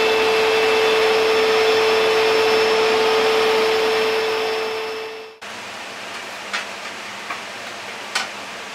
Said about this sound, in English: I'm going to use the vacuum cleaner and the lathe and clean them up with some Scotch Brite.